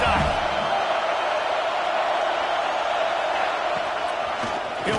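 Roaring American football stadium crowd at a Texas vs Ohio State game, a dense, sustained wall of cheering and yelling that stays loud and steady throughout.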